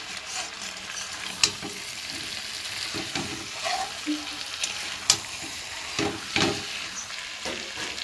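Mutton sizzles with spices in oil as it is stirred repeatedly, a continuous frying hiss broken by sharp spoon scrapes and knocks against the pot at irregular intervals, with no talking.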